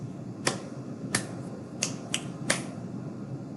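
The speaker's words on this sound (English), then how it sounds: "So we have snapping and clapping in that one." A body percussion pattern in a quiet room: five crisp, spaced finger snaps and claps, sharp and close, with a faint background hiss.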